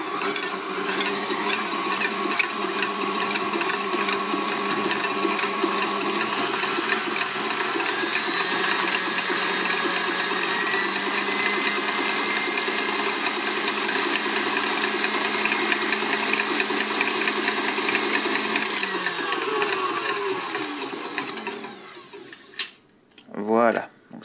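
Two whole eggs are beaten together for a coconut fondant cake batter, a steady, close whirring and clattering of the beating that runs for over twenty seconds before stopping abruptly near the end.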